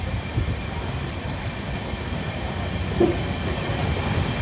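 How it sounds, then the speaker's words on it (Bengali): Steady low rumble of the Howrah–Digha Tamralipta Express slowing along the tracks near Santragachi, a continuous rolling drone with a faint brief squeal near the end. "কিন্তু ট্রেন এত স্লো করলো কেন বুঝতে পারছি না"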